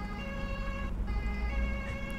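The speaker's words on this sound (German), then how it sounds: "ich fahre gerade mit dem Krankenwagen darüber." An ambulance siren wails in the video game Altis Life, a steady tonal electronic siren held loud and close for the whole stretch over low vehicle rumble, with no talking.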